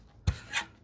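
A hand saw cuts a wide wooden tenon, giving a short rasping stroke of teeth through wood, a low thump at the start and then a brighter scraping pass, quiet and close.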